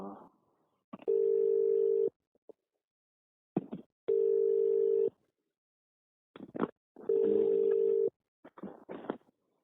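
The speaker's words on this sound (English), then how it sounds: "there seems to be some phone ring in the background" A telephone rings in the background of a company's quarterly earnings conference call: three long, steady electronic tones about three seconds apart, fairly clear, with brief bits of voices on the line between them.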